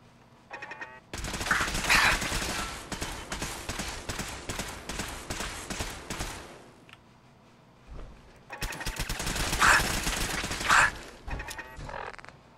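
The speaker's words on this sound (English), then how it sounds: "I can shoot turrets with my pistol." Gunfire in Fallout 4, a pistol firing at turrets amid return fire, comes as two long, dense bursts of rapid loud shots separated by a short lull.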